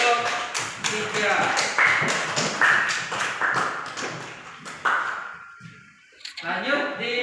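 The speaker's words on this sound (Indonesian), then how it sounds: "Tepuk tangan buat kelompok 3." A class applauds a student group, with scattered, uneven hand claps close by that fade out and briefly resume, and a voice speaking near the end.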